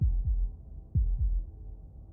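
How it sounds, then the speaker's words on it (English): Heartbeat sound effect in the video game Slay the Princess: two deep, muffled double thumps about a second apart, low and close, with nothing else heard. "That was the sound of a heartbeat,"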